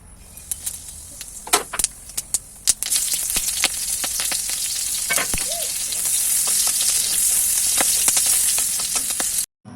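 Onion, cumin and chilli tempering spices hit hot oil for dal, starting with a few sharp crackles and pops, then settling into a steady, loud sizzle that runs to the end.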